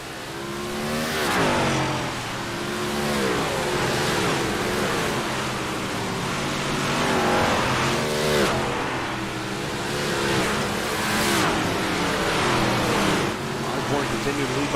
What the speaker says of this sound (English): This is all big block motors in these cars.